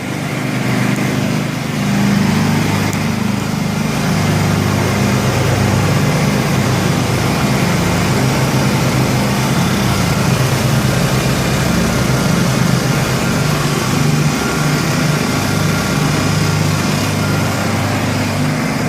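Honda EU1000i and EU2000i portable inverter generators run together steadily, a continuous, even engine drone close by with no pauses.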